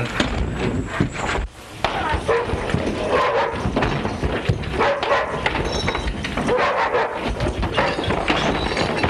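A dog barks and yips repeatedly from a 1937 black-and-white Western, the barking busy and loud amid scuffling and clatter, with voices mixed into the dense, noisy old film soundtrack.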